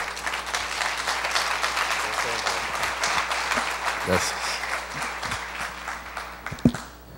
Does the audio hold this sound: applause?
yes